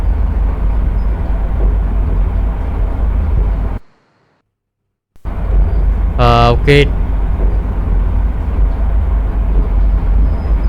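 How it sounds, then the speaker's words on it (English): A loud, steady rumble of a subway train in the Backrooms game The Complex: Expedition fills the scene, cutting out briefly to silence before resuming, with a short spoken word over it. "Where this is a fully functioning subway"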